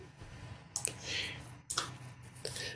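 Glitch effect in a trip hop track: choppy bursts of clicking, stuttering digital noise in short uneven fragments over a soft low backing, with sharp cuts and restarts.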